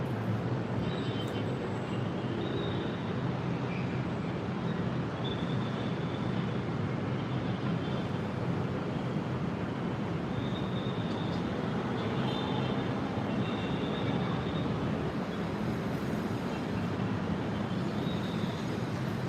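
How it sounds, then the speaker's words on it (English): Cebu Pacific Airbus A321 airliner near Ninoy Aquino airport, a broad distant jet roar mixed with traffic noise and faint honking, steady and moderately quiet throughout. "We got an A321 by Cebu Pacific."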